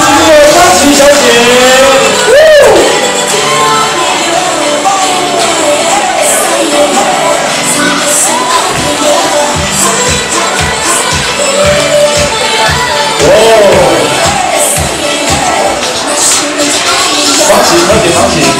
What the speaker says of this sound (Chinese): 掌声欢迎创世今天的方琪小姐。